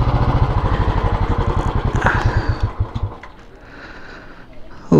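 A motorcycle engine idles with a fast, even putter at close range while being parked at a resort, then cuts off after about three seconds, leaving quiet background.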